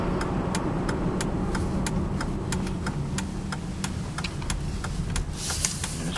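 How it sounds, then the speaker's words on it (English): A Volvo XC60 T6 SUV accelerating at around 50 mph, with steady broadband road and engine noise and a faint ticking running through the cabin. "acceleration on this car is quite impressive"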